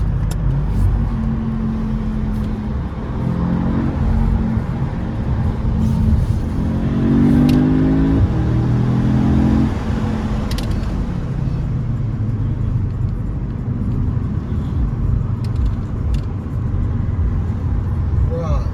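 A loud car engine rumbles and revs at a car meet in Mexico, heard from inside the vehicle as it surges and settles while people talk over it.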